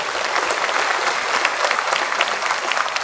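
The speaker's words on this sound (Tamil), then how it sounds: "இது கல்லூரிக்கான கைத்தட்டல்" Applause from a college audience at a motivational talk, a dense steady wash of many hands clapping at a fairly close, even level for the whole stretch, with no voices.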